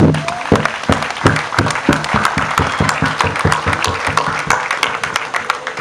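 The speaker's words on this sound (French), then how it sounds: "je souhaiterais que nous lui donnons une salve d'applaudissements pour l'accompagner" Steady applause from a crowd at a funeral service fills the whole stretch, many hands clapping at once with a few louder claps standing out.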